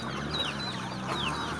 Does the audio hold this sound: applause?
no